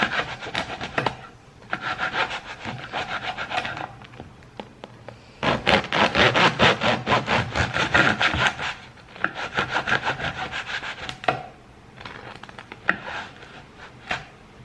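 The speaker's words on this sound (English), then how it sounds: "I need a new bread knife." Bread is sawn on a diagonal with a worn bread knife, giving bursts of close, rhythmic rasping strokes separated by short pauses.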